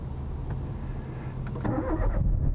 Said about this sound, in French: Qu'elle va démarrer ou pas?